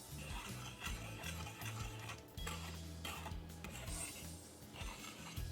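Salt and sugar being stirred together in a bowl for sweet bun dough, giving a soft, steady rasping scrape in repeated strokes, close and fairly quiet, with no talking.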